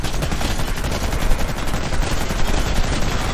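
Rapid automatic gunfire in the Warface shooter game, dense overlapping bursts of shots that are loud and close, going on without pause and with no speech over them.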